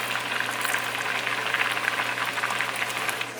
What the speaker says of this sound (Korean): 어느 정도 지금 끓어가고 있는데